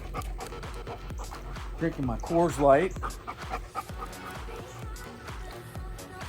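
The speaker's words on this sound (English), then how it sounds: "my spaz dog runs around the pool with balls in his mouth" A dog pants quickly and steadily close by at a swimming pool, its rapid breaths continuing while someone talks over it.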